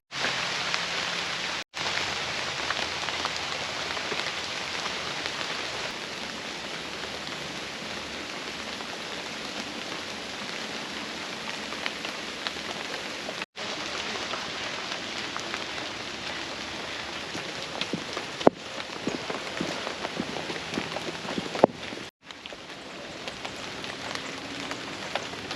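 Steady rain falls across a nature trail with a concrete path through dense, rainforest-like plant life in Paynes Prairie, a continuous broadband patter with occasional louder drips and no talk.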